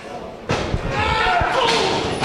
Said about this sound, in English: Thunder slamming him arm first in that turnbuckle